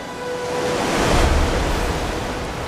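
Rushing water fills the clip as a loud, continuous broadband roar, a sound effect of a river's water being split in two, holding steady throughout with no talk.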